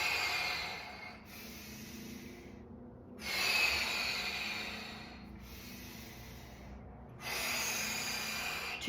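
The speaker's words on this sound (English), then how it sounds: "Exhale down." During a gentle yoga mobility flow, a person breathes in a slow rhythm. Three long, airy breath sounds come close to the microphone, with short pauses between them.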